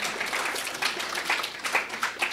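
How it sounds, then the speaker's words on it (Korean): Scattered, fairly faint audience clapping fills a lecture hall at a public lecture on immigrant theology, a thin steady patter of hands with a few slightly louder swells and no talk over it. "억지로 받는 박수도."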